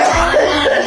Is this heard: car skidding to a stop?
no